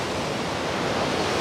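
Ocean waves give a steady, full wash of surf noise with no distinct breaks, fairly loud and close, and no voices over it.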